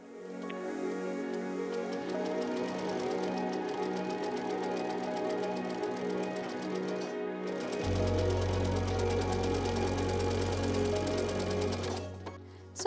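A sewing machine stitches the seams of a quilt-as-you-go star block, its needle running in a steady, fast mechanical chatter that holds close and loud for nearly the whole stretch, with a deeper motor hum joining near the end and no talk.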